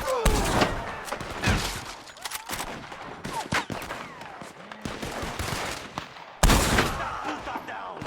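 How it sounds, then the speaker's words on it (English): Repeated gunfire in a Red Dead Redemption 2 shootout with bounty hunters firing from a slope: loud overlapping shots and bursts across the whole stretch, mixed with distant cracks and a few shouted voices. "Where them shots coming from?"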